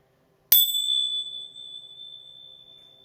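A single small bell is struck once before a tarot card reading, giving a bright ding with a long, clear ringing decay that fades slowly in an otherwise quiet room.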